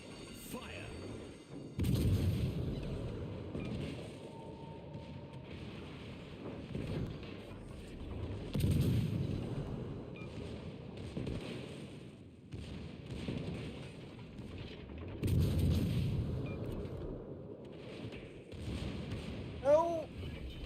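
In a warship battle video game, heavy naval guns boom three times at spaced intervals. Each deep thud rolls out over low wind and engine rumble.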